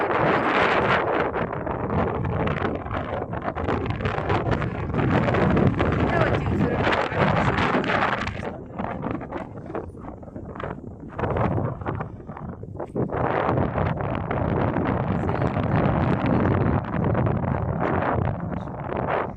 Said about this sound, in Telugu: గాలి మాత్రం చాలా ఎక్కువగా ఉంది